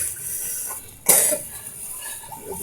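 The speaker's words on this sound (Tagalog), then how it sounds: "Ubo ka din." A child coughs once, sharp and close, after a quieter stretch in a family home during breakfast of fried eggs and chocolate milk, followed by faint background murmur and clatter.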